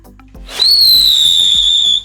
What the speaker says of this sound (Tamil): இது வந்து பார்த்தீங்கன்னா விசில் சங்கு சக்கரம். ஸோ சவுண்டு போட்டுகிட்டே வருமா.